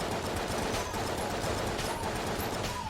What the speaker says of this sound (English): I have to use a decent damage machine pistol